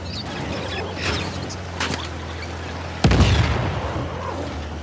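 Gunfire during Uncharted: The Lost Legacy gameplay, a few scattered pops early, then one heavy booming shot near the end that trails off in a long decay.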